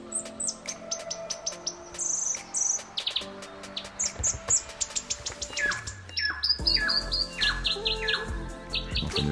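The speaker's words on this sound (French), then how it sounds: "J'entends le ton d'oiseau." Birds chirp and sing in a busy chorus of overlapping tweets and trills, close and clear, with rapid repeated calls throughout and no talking.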